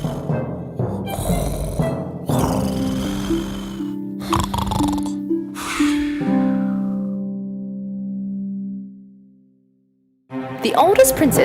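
A voice imitates snoring with several drawn-out, rumbling snores close to the microphone, followed by a brief burst of sound at the end.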